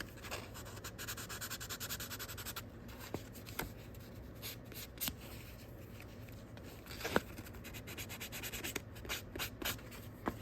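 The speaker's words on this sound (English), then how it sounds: "I find it's a little bit easier just to kind of drag it along the sandpaper" Model rocket fins from an Estes Orange Bullet kit are rubbed back and forth on sandpaper, a soft, close scratchy scuffing in quick repeated strokes, with scattered light taps and clicks.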